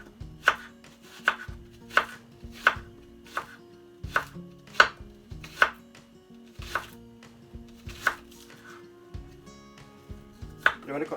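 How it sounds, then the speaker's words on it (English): A knife chops red onion on a cutting board in a steady series of sharp, close knocks, roughly one per second, with no talking. "Just gonna chop up some red onion as well."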